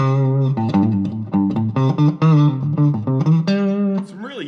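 A Harley Benton Les Paul style goldtop electric guitar with both humbuckers split plays a clean, bright run of picked notes and short chords ending in a bend, loud and close with no talk.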